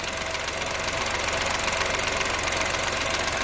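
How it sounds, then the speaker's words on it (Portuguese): A noisy car engine vacuum pump with plastic vanes clatters in a fast, steady rhythmic ticking and knocking over the running engine, close and continuous with no talk. "Que ela é uma bomba de vácuo. Olha o barulhinho."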